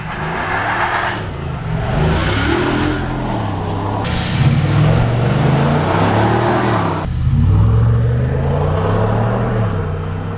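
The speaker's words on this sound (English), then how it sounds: "Wow, pretty good thrust for a heavy truck." A 2024 Ford Super Duty STX 4x4 heavy-duty pickup engine roars as it accelerates hard in tow/haul mode, the pitch climbing through several gear shifts, loud and close throughout.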